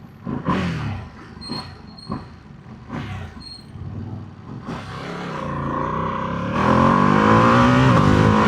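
A Ducati Panigale V2 motorcycle in heavy traffic gives a few sharp throttle blips, then accelerates hard into a sustained, rising engine roar that grows louder toward the end.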